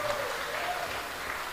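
Audience applause at a gathering of young entrepreneurs in Probolinggo regency, a steady wash of clapping held evenly for the whole stretch, moderately loud and without any talk on top.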